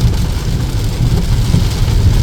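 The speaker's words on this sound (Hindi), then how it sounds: "देख रहे हो कितनी तेज़ हो रही है बारिश" Heavy rain pounds steadily on a car during a drive toward Jammu and Kashmir, a loud, dense roar with deep road rumble underneath and no voices.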